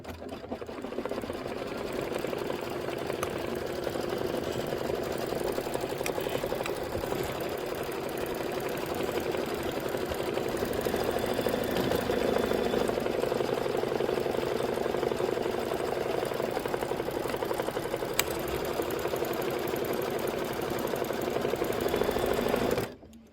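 An embroidery machine stitches a tack-down line on fabric for a quilted pillow block, giving a steady, fast mechanical hum and clatter. It runs close and continuously with no break and no voices, then stops abruptly at the end.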